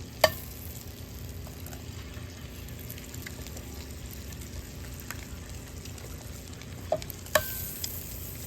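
Jumbo eggs frying on a homemade hobo stove with a trivet, a steady close sizzle running throughout, with a few sharp clicks and taps near the start and end.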